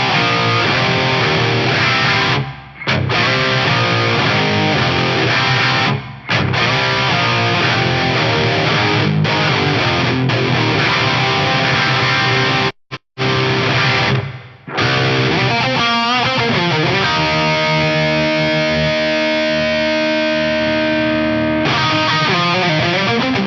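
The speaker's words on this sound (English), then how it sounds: "And then we'll just play around with the different reverb types." A Yamaha FX900 multi-effects unit cycles through its reverb types on a loud, dense distorted music mix, with brief dropouts between settings and long, smeared sustained tails as the effect changes.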